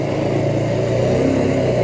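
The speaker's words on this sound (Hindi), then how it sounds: "एक्सेलरेट कर दो, और धीरे धीरे क्लच छोड़ दो" A motorcycle engine drones steadily up close while pulling away in first gear as the clutch is eased out, a constant mid-pitched hum with no voices.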